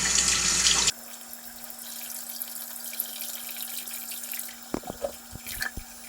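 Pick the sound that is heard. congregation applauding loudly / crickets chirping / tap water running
tap water running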